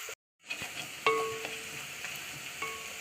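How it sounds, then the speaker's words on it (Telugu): Onions fry in a pan for a green chicken curry, giving a steady close sizzle with a few soft stirring clinks and a brief silent gap near the start. "ఉల్లిపాయలు వేగిపోతున్నాయండి"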